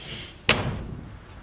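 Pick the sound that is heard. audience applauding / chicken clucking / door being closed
door being closed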